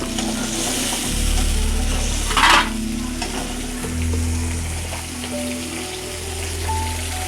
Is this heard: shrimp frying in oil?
yes